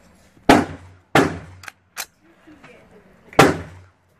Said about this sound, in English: let me load this up and take a couple shots for you guys with this